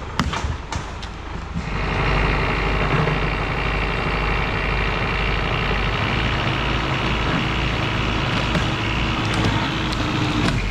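Zetor tractor engine idling and revving during aspen and alder logging, a steady low rumble close by that starts quieter and then holds loud and continuous, with no talk.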